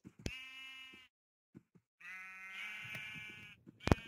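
Minecraft sheep bleat several times, close and clear: two drawn-out wavering bleats separated by a short silence, with soft scattered clicks and a sharp tap at the end.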